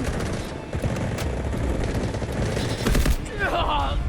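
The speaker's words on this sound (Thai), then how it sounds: "หมอบแล้วยิง" A FS-12 semi-automatic shotgun fires in the Delta Force video game, with loud, dense gunfire continuing through the whole stretch amid other battle noise.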